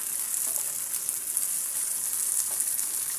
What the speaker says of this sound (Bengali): এবার আমি পেঁয়াজ এবং রসুন কুচির সাথে চিংড়ি মাছটা ভেজে নেব।